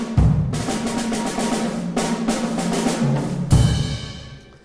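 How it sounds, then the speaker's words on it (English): A full drum set played behind a symphony orchestra pounds out a steady, loud groove of kick, snare and cymbal hits, alone and without talk for several seconds before the final crash rings out and fades. "we have a really great drum set in the back of our symphony"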